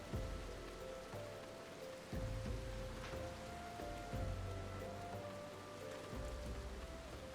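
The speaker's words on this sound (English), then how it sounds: "Ah, it's raining." Steady rain falling in Final Fantasy XIV, a soft even hiss of drops on surfaces with a faint low rumble beneath, continuous and fairly quiet with no voices.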